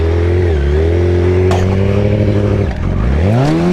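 A motorcycle engine revs hard and close during clutch work for circle wheelie practice on a lot. It gives a loud, sustained drone with pitch rising and falling, a brief dip, then climbs again.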